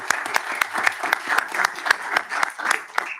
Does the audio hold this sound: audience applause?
yes